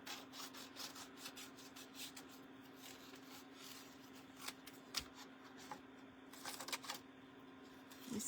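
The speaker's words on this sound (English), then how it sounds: "this is going to be a little more challenging to sand off" A wooden bunny decorated with vintage German paper is sanded by hand, with quiet, close rubbing and scratchy strokes in an uneven rhythm and a few sharper scrapes.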